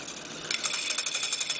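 A small homopolar motor spins up to high speed, giving a steady, close whirring buzz with rapid rattling pulses that thicken after a brief quieter start.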